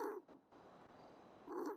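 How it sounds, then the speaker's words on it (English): A rabbit in the GTA V video game purrs in a soft, faint, rumbling stretch framed by two brief louder growly vocal bursts at the start and end. "Listen to this rabbit purr."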